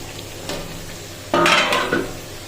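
Chicken curry being stirred in a pan, a quiet simmer interrupted by a loud scraping stir and sizzle burst lasting under a second, with lighter scrapes around it.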